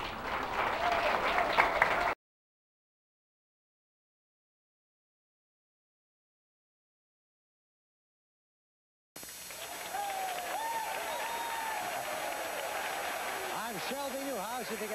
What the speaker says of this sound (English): If you can hear me over the enthusiastic response of this crowd behind me